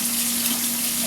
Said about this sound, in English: I'm washing my hands because I want the water, you know, get all that poultry from under my nails